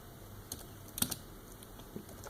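Typing text on a tablet in PDF Expert, a few quiet, close taps at an irregular rhythm over a faint steady hiss.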